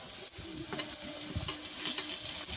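Potatoes fry in a pan as they are browned for ghugni, giving a close, loud, continuous sizzle that holds steady throughout, with no voices.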